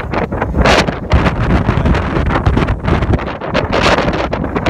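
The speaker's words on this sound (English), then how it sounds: "It's so windy up here at the top." Strong wind at a dark mountain top buffets the microphone in loud, continuous gusts, roaring and rumbling with no pauses, close and overwhelming.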